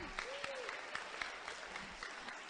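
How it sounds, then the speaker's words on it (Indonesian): Applause from an audience at an Islamic boarding school financial literacy event, steady dense clapping throughout with a brief tonal voice or whistle sweep near the start. "boleh tepuk tangan untuk kita semua"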